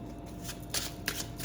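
Tarot cards being shuffled by hand in quick riffling bursts, close and fairly soft, with a steady low background hum and no talking.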